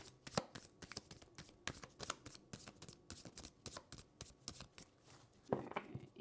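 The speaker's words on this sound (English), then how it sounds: "You guys can fast forward the shuffling if you want." Tarot cards are shuffled by hand in a rapid run of crisp riffling and slapping strokes, close and fairly quiet, with a slightly heavier flurry near the end and no talk.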